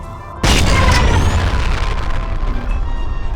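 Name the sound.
grenade shot and exploding in video game F.E.A.R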